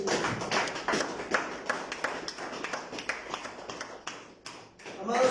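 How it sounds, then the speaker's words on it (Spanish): A church congregation at a Thursday evening service claps together in a sustained, uneven round of applause that fills the room, with scattered sharper claps and a faint voice near the end. "Denle un fuerte aplauso al Señor"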